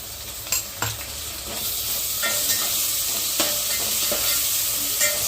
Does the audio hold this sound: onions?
yes